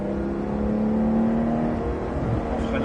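A 991 Porsche 911 GT3 accelerates on a race circuit with a steady, loud engine drone that rises slightly in pitch, heard from inside the car.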